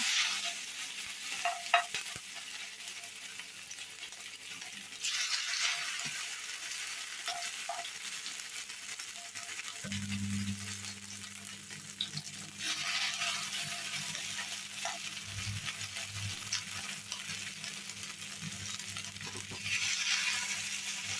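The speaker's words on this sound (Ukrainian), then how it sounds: "відправляємо на сковорідку наші деруни і смажимо" Ukrainian potato pancakes (deruny) fry quietly in a pan, a soft continuous sizzle with occasional stirring scrapes and a low hum joining partway through.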